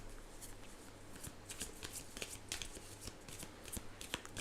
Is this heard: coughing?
no